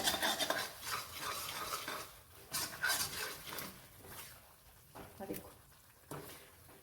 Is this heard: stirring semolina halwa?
yes